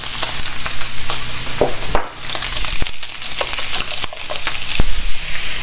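Food fries in bacon grease in a pan, loud crackling sizzle broken by bursts of stirring and scraping with a utensil, close up and without talk.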